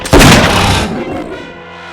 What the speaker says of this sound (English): Sounded like a gunshot